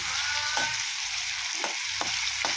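Potatoes fry in a kadai, giving a continuous bright crackling sizzle broken by a few soft scraping stirs, close and steady with no one talking.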